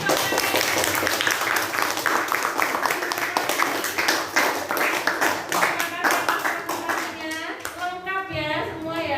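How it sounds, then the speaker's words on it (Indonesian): A class applauds a student group after its presentation, with many hands clapping steadily and fairly close for most of the stretch, and a few children's voices rising under and after the clapping. "beri aplaus buat kelompoknya."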